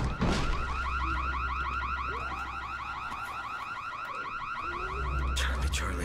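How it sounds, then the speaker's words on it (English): A loud, cycling electronic house alarm wails continuously in the zombie game Dying Light, its warbling tones repeating steadily over a low rumble without any talking. "house alarms"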